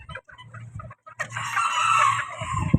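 A bantam rooster crows once, long and loud, after a few soft clucks, with no talking around it.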